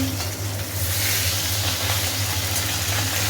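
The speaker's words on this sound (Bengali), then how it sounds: "এসেছি মাছ ভাজতে দিয়ে দিয়েছি" Fish frying together in a pan in a home kitchen, a steady close hiss and sizzle running unbroken under a low hum, with no talking.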